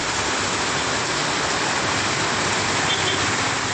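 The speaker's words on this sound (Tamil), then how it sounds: "சுமார் 1 மணி நேரம் கனமழை பெய்த நிலையில்" Heavy rain pours in a steady, dense roar with no letup, loud and close, like a downpour drumming on surfaces, with no voices.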